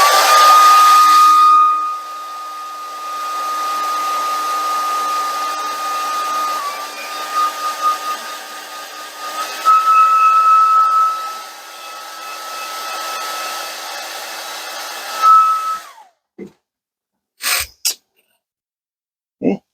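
Hair dryer blowing air to dry a freshly painted marbled fishing lure, a steady loud whine for about sixteen seconds with slight pitch shifts as it moves, then cutting off, followed by a few quiet clicks.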